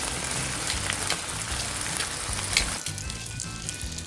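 Homemade cured bacon sizzling in a pan on a single burner, a dense continuous crackle and spatter that eases slightly near the end.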